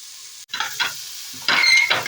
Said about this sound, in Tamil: பிரியாணி மசாலா போட்டு இப்போ நல்லா மிக்ஸ் பண்ணிக்கலாம்.